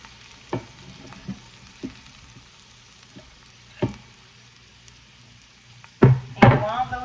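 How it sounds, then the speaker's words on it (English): Celery and onions sautéing in butter in an Instant Pot, a faint low sizzle under scattered sharp knocks and stirring clatters, with a louder burst of scraping and sizzling near the end. "I'm going to go ahead and add my celery and my onions to the pot. And we're just going to saute those just a little bit."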